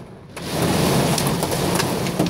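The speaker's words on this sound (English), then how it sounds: "Here comes the hail." Hail and heavy rain pound down during a close South Jersey supercell thunderstorm, a dense, steady loud hiss of rain and hailstones with a low rumble underneath, no voices.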